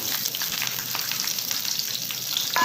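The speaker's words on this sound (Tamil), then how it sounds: "ஒரு கப் வெங்காயம் சின்ன வெங்காயம் போட்டுக்கலாம்" Small onions frying in a pan for mint chutney, a steady close hiss with faint crackles and occasional stirring ticks throughout, no voices.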